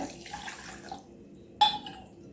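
Water pours into washed kodo millet and dal for khichdi, a steady splashing rush for about a second that stops abruptly, followed by one brief clink near the end.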